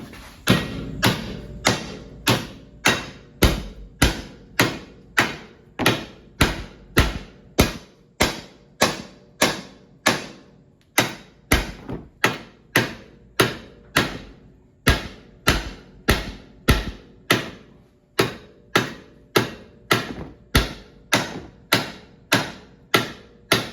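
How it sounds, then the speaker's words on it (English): A 2-pound sledgehammer knocks a rear disc brake part into place on an off-road 1997–2001 Honda CR-V: a long run of sharp, loud metallic thuds, struck at a steady rhythm with brief pauses, close up and with no talking. "on the other side I just use a hammer and knock it in"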